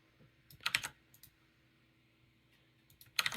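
Someone types a shipping address on a computer keyboard in short bursts of quick clicking keystrokes, close and fairly faint, with quiet pauses in between.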